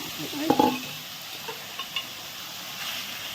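Goat meat sautéing with onion, garlic and spices in a pan, a steady soft sizzle punctuated by a few clinks and scrapes of a stirring spoon near the start.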